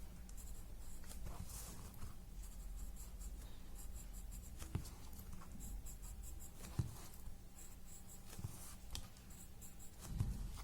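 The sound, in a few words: graphite pencil drawing on paper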